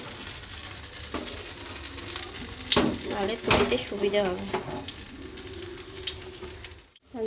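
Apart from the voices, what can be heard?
fritters (bora) frying in oil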